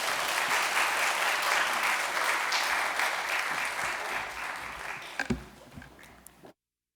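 A church congregation applauds together during a Sunday worship service to welcome Pastor Park Won-hee to the pulpit, a dense, steady wash of clapping that fades out near the end.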